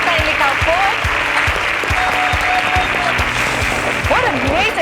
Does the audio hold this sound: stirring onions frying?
no